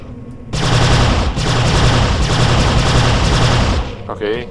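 Sustained, loud automatic gunfire from shooting at enemies in Prey keeps going for about three and a half seconds as a dense fusillade. It breaks off abruptly and is followed by a brief warbling electronic tone.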